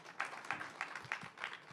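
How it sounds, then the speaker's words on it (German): A small farewell round of applause in a lecture hall at the end of a conference talk: a few hands clapping in loose, irregular bursts, fairly faint and sparse. "Damit eben großen Applaus noch einmal zum Abschied"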